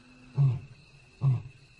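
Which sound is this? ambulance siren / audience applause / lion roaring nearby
lion roaring nearby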